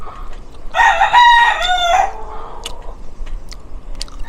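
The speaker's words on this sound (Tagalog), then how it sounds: "Mga manok, tilaok na tilaok, parang umaga pa lang." A rooster crows once, loud and close, a long strained call, followed by scattered soft clucks and small ticking noises from nearby fowl.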